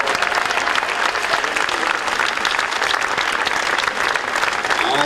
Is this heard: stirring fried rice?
no